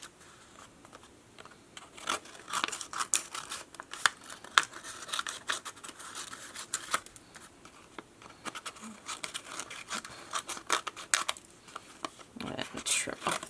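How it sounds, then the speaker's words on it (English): Paper being trimmed with paper snips during a craft project, giving a run of crisp crinkling, snipping and rustling sounds at close range, with brief pauses between cuts and no voices. "I'm just going to use paper snips and cut off the part that is extending out."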